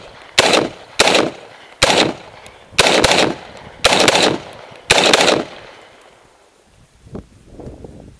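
Six sharp, loud pistol shots ring out close by at roughly one-second intervals, each with a short echoing tail, then a few faint clinks and rustles follow outdoors.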